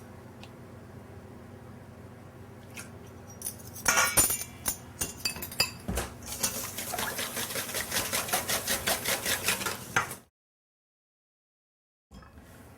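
A whisk beats wet cupcake ingredients and egg yolks in a bowl with fast, rhythmic clinks and scrapes. The beating runs steadily for several seconds, then stops abruptly.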